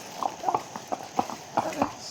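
Horse hooves clip-clop at a steady walking rhythm, close and distinct, on a forest trail at Matheran hill station, with people talking over the beats.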